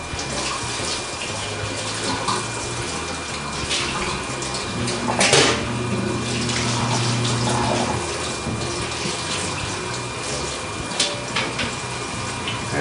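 Tap water runs steadily into a sink for cleanup of home winemaking equipment, a continuous close splashing rush with a clunk partway through and a faint low hum, no one talking.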